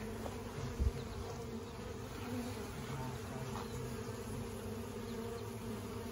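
A dense swarm of honey bees hums steadily and close, a continuous droning buzz with one brief bump partway through.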